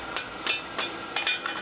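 Hammer blows on metal while flattening a hand-forged door knocker, five sharp ringing strikes at an uneven pace, fairly close and clear over a quiet background.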